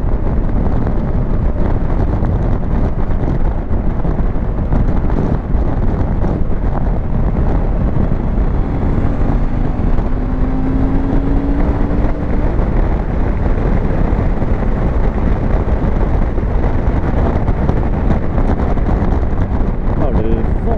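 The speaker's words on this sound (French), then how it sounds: "Oh, le vent." Steady, loud wind buffeting the microphone while riding a Suzuki V-Strom 650 motorcycle at speed, a continuous roar that fills the whole clip with engine drone underneath.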